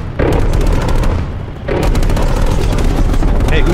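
Rapid gunfire from hip firing in Call of Duty: Cold War, loud and nearly continuous across the clip with booming shots and a short dip partway through.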